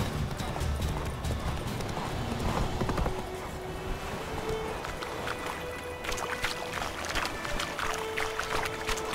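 Horse hooves clip-clop at a steady trot in The Witcher 3: Wild Hunt, a continuous rhythmic gait close by over a busy bed of ambient game sound and music.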